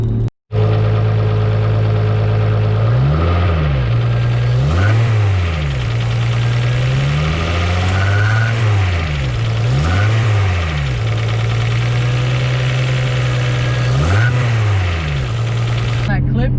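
A Nissan Skyline R33's built RB25DET engine idles nearby with light mechanical ticking from the hydraulic lifters, louder than usual, revving briefly several times before settling back to idle.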